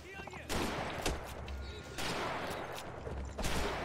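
Gunfire in the Mount and Blade 1866 game, several sharp shots and volleys crackling in irregular bursts against a noisy battlefield background, with a voice talking faintly underneath.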